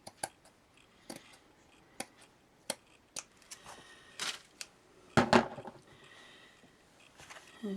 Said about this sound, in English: maybe we'll cut a piece off here